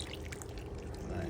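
Coconut milk pours into a pot of stew peas, a short, soft liquid glug and trickle, faint and close.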